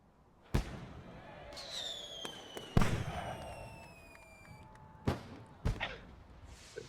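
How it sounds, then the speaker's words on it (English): Fireworks pop and bang at irregular intervals, several sharp cracks with whistling streaks rising between them, heard from some distance. "we are missing fireworks"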